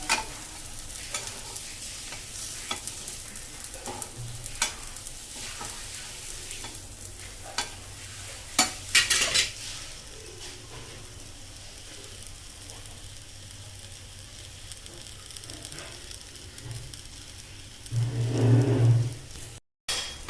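Pitla kobad, a chana dal batter with egg, frying on a pan after being flipped, giving a low, steady sizzle with occasional stirring and scraping clicks and a louder burst near the end.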